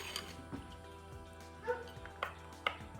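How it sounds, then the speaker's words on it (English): A dog barks a few times in the background over a steady hum, the yips faint and spaced apart. "That's my dog in the background, if you hear someone barking."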